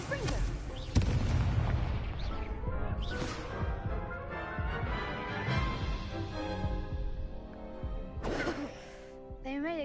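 An explosion from the Confringo spell in a video game, a heavy booming burst followed by a rumbling, crackling tail under game voices and music, with a second sharp burst near the end.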